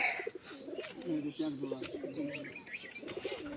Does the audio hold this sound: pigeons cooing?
yes